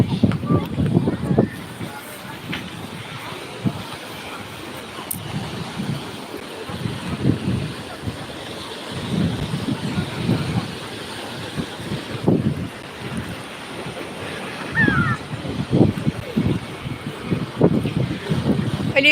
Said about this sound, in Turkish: Karadeniz bugün dalgalı.